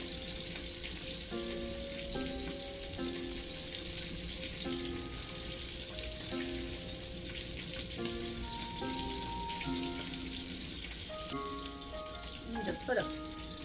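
Sausages sizzle steadily in a hot pan, a continuous broadband frying hiss with occasional pops, while background music with a repeating melody plays over it throughout.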